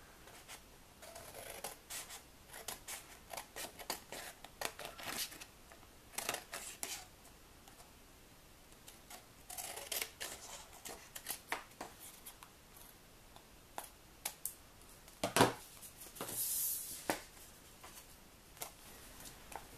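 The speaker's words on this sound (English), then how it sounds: "what I'm going to do is trim up the edges so that I'll have a little bit of a border" Scissors snipping along the edges of striped paper for a 3D cupcake gift tag, a series of quiet crisp cuts in irregular bursts with a few louder snips near the end.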